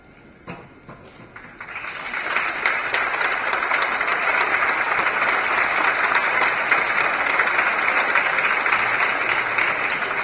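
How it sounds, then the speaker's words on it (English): Audience applause for contestants' families at the Mr. Millville 2023 pageant, building after a few scattered claps into a full, steady round of clapping from a large crowd that continues for several seconds. "please rise to receive a very well-deserved round of applause"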